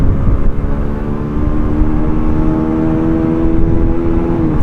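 Honda CD 70 motorcycle fitted with a Honda CG 125 sprocket set, its small engine droning steadily and rising slightly as the throttle opens, loud and close with no talk over it.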